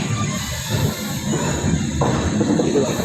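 Nagavalli Express LHB train running slowly through Anakapalli railway station, giving a continuous loud rumble and rattle of rolling coaches with a faint hiss and no gaps.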